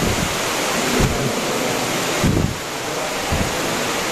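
Steady broadband rush of water flowing through an underground river at the end of a cave passage among stalactites, constant and enveloping with a few louder surges.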